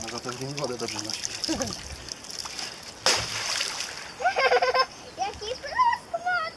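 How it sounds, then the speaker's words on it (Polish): A weather balloon probe drops into water with a strong splash, followed by sloshing and trickling as it floats, while people talk and exclaim nearby throughout. "Jaki plusk mocny!"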